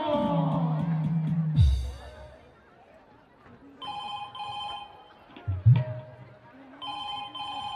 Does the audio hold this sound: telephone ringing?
yes